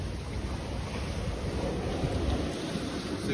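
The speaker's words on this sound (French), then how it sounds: "C'est que des petites vaguelettes." Small choppy sea waves wash around a sailing boat off the Grenadines. A steady, loud rush of water and wind fills the whole stretch with no pauses and no voices.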